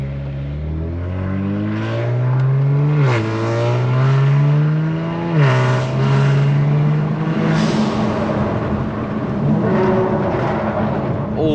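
A Kia Stinger's engine revving hard, loud and close, with rising and falling pitch sweeps over several seconds; excited voices speak over it.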